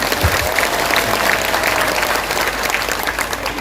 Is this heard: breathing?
no